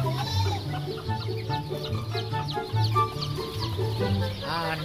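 Chickens and chicks cluck in a steady, busy chorus, close by and fairly loud, with brief higher peeps mixed in.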